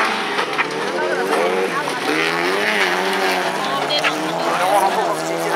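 Folkrace cars race around a gravel-and-tarmac track at Sotenäs, their engines droning and revving loudly and continuously, rising and falling in pitch as they pass, while a commentator talks over the racing throughout.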